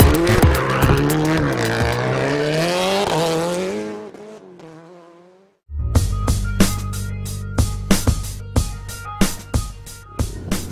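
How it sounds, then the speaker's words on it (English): A car drifts with loud, wavering tire squeal and a revving engine, the squeal fading out before a short silence, then engine pulses and sharp popping bursts follow close by. "he's gonna drift around here"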